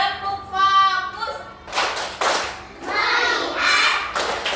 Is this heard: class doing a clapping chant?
yes